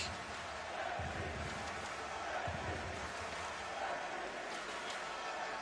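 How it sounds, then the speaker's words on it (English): Stadium crowd noise from Prague fans at a Czech Republic vs Italy World Cup qualifying football match, a broad steady roar with low rumbling swells, heard at a distance and continuing throughout. "the Prague crowd trying to rile their team up here"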